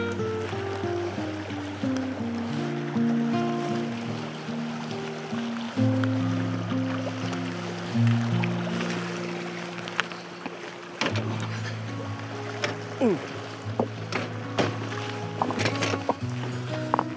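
Creek water flowing and splashing during a crossing in a national park in Lapland, a continuous rushing wash with irregular sharper splashes, close and fairly loud, with low rumbling wind or handling noise underneath and no speech.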